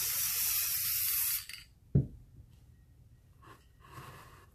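A spray can hisses loudly and close for about a second and a half while paint goes onto an epoxy woodgrain geode cup. Then it cuts off, leaving a sharp clack and faint short puffs.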